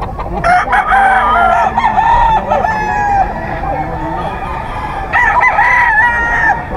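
Roosters crow loudly and repeatedly at a busy pet market in Bocaue, their long calls close by and overlapping, with clucking from fowl and people talking in the background.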